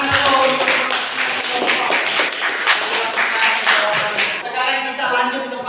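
A classroom of students claps together after a group presentation during a lesson, brisk, dense and close, holding steady for several seconds before tapering off at the end.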